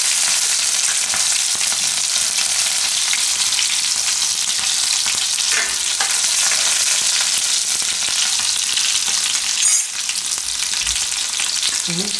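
Cumin seeds, garlic and green chilies drop into hot oil for a Gujarati carrot-and-spinach dish, giving a loud, close, continuous sizzle that holds steady throughout with faint stirring clicks and no voices.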